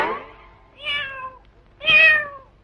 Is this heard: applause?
no